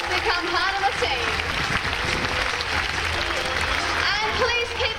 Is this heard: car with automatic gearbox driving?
no